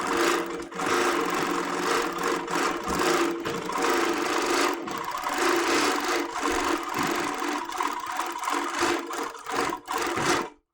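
An HQ Moxie 2.0 quilting machine runs on a quilting frame with a carriage that does not roll quite smoothly. It gives a loud, continuous mechanical whir with rattling, brief dips and pauses, close by for about ten seconds.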